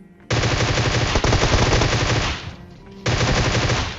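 Rapid automatic gunfire in a battle royale game, two loud close bursts of fast repeated shots separated by a short pause, with no talking over them.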